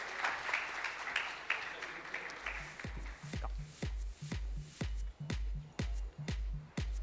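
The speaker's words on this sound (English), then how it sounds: "A round of applause for them." Panel talk audience applauding briefly at the start, then the clapping thins out into scattered taps and shuffling thumps as people move, with some speech in the room.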